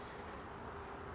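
Honey bees from a small colony that survived winter buzz around their hive as foragers return with pollen. The hum is brief, soft and continuous.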